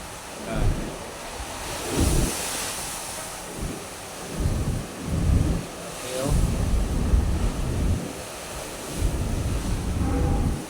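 Typhoon Nando winds and rain in Manila, heard as loud roaring gusts that surge and fade in repeated waves with heavy wind buffeting on the microphone and no talking.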